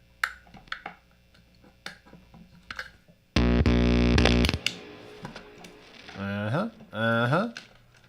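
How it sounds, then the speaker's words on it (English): A guitar played through a Mega Distortion pedal into a Toadmaster Pro amp gives a loud burst of thick distorted chord, then bending, wobbling notes, with quieter picking and clicks at the start. "I just happen to have, right here, a Mega Distortion"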